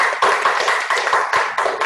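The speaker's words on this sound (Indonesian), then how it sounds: "kita beri tepuk tangan untuk semuanya, adik-adik" Applause for participants in an online high-school quiz competition, a steady patter of many hands clapping with rhythmic bursts throughout, fairly close and without talk.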